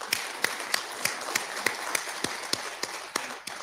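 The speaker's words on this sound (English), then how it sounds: "Shouldn't we applaud him? Please, give it a clap." A lecture audience claps in a hall: a sparse, regularly spaced run of sharp hand claps over a hushed room murmur, the individual claps moderately close and fairly quiet.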